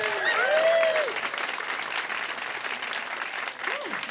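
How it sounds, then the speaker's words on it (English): A live audience applauds a man named Mario, producing a continuous, even wash of clapping at moderate volume, with a voice rising over it at the start and another brief vocal sound near the end. "Let's give another round of applause for her father,"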